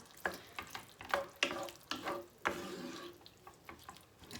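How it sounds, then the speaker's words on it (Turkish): A spoon stirs creamy chicken and mushroom in a pan, soft scraping strokes repeating every half second or so over a faint sizzle, close and quiet, with no talking. "Şöyle birazcık karıştırayım ama yeterli olacak gibi sanki ya."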